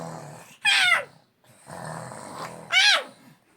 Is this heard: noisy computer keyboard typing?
no